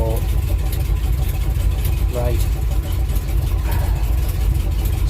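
The engine of a Simca Marmon 4x4 idles loudly and steadily with a constant low rumble, while someone talks briefly over it.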